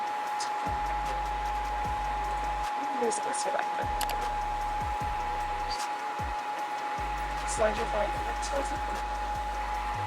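A hair dryer blows with a steady whirring hum and rushing air, while people talk intermittently over it nearby.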